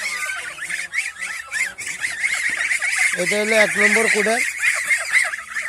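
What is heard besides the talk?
ducks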